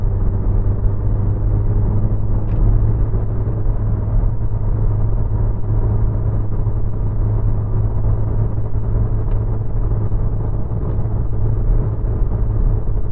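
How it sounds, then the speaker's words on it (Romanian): Muffled, steady diesel drone inside a Nissan Pulsar 1.5 dCi accelerating toward 130 km/h in fourth gear at around 3300 rpm, a constant low hum with road rumble beneath, no talking. "Observați că motorul se aude, dar destul de înfundat"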